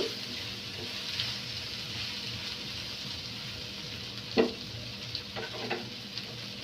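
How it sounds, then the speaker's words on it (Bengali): Green capsicum and chopped tomato fry in a pan on the stove for a homemade beef pizza, giving a soft, steady sizzle with a few brief knocks and scrapes as they are stirred. "এখন একটু নেড়ে চেড়ে ভেজে নিচ্ছি।"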